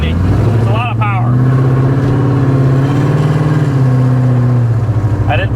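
A supercharged Coyote V8 in a 1967 Mustang resto-mod rumbles loud and close, its revs rising and falling in sustained throaty swells with a higher whine riding on top, continuous for the whole stretch.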